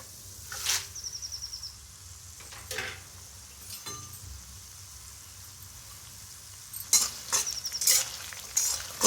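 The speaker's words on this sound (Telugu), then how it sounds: "ఇది బాగా ఫ్రై చేసుకోండి." Dried red chillies and tempering spices, including cumin, frying in a pan: a quiet background sizzle broken by several sharp bursts of crackling and stirring scrapes, with a louder cluster near the end.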